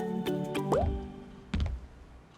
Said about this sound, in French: Prenez une raquette de tennis, trempez-la dans le liquide et essayez de faire une bulle.